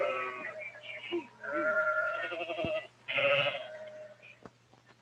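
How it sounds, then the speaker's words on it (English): Sheep on a farm raised for wool bleat repeatedly in wavering, overlapping calls, fairly close and steady, mixed with other animal cries and a low background hum. "What about the sheep?"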